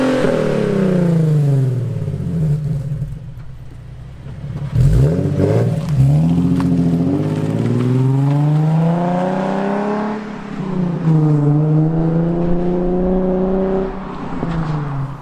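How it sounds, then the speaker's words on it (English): A 2010 Nissan 370Z fitted with an AAM short-tails non-resonated exhaust revs loudly and repeatedly, its engine note climbing and falling in long, raspy sweeps close by, with no talking. "I have a custom exhaust on the car. It's a AAM short tails exhaust, non-res"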